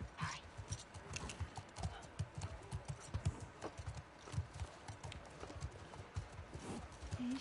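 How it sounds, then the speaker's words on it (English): Horse hooves clip-clop at a steady walking rhythm in The Last of Us Part II video game, soft and fairly close, with a faint bit of talk. "Gotta go get my horse."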